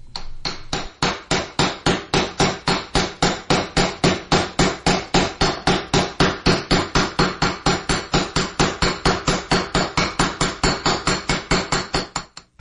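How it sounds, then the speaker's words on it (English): Sharp, loud hammer blows ring out one after another at a brisk, steady pace, about four strikes a second, like nails being driven in. They continue without a break and with no voices over them. "The hammering and nailing is about to begin."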